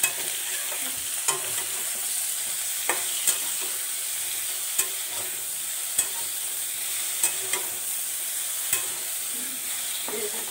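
Eggplant pieces sizzling and frying in a pan, with a steady crackling hiss and periodic sharp scrapes and clicks as the spoon stirs roughly once every second or two, close by, with no voices.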